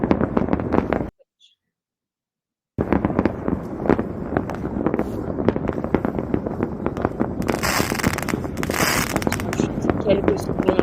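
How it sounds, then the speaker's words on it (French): Fireworks bursting during New Year's Eve in Iceland, a dense, continuous barrage of loud crackling and popping blasts from all directions, broken by a brief silent gap before the explosions resume with bright hissing crackle. "On va se quitter sur cette présentation de l'Islande avec une vidéo des feux d'artifice"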